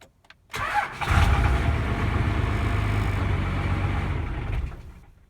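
A daily driver car cranks briefly after a short click, catches and fires up on a cold start, then settles into a loud, steady, slightly low idle that runs for several seconds before fading.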